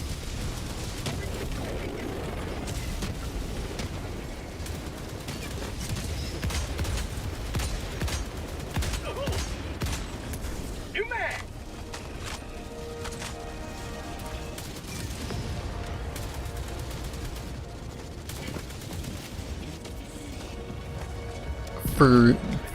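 A sentry turret firing in Helldivers 2, dense rapid gunfire and explosions mixed with battle noise, with a voice talking over it.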